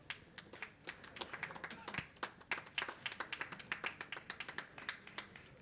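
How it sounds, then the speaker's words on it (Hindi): An audience at an achievement award ceremony claps, a burst of irregular, fairly close handclaps that thickens into steady applause over a few seconds. "आप लोग जोरदार तालियां बजावें।"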